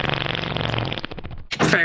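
A cartoonish fart sound effect played back from an audio file, a long buzzy flapping blast of nearly two seconds with a sharp squeaky burst near the end.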